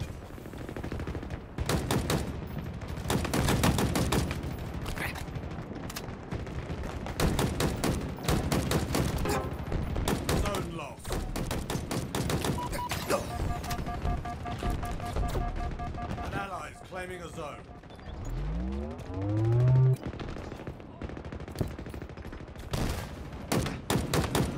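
Rapid machine gun bursts in the Halo Infinite multiplayer game rattle almost nonstop through a busy, loud mix of explosions and other gunfire, with a game announcer's voice coming in briefly.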